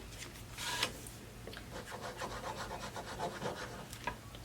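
Art Glitter Glue squeezed and spread onto a paper card flap, a soft close rubbing and scratching that runs steadily with faint bursts of friction, no talking.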